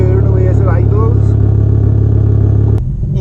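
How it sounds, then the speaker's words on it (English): A Ford Focus ST225 idles with a steady, even low hum close by, a faint voice or two drifting over it before the engine note drops and shifts near the end. "It's just purring away as it idles."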